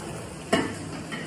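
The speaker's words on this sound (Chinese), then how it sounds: "是炒猪肉" Pork stir-fried in a hot pan, a single quick scrape-and-sizzle burst as the meat is tossed, then a soft steady sizzle, close and fairly quiet.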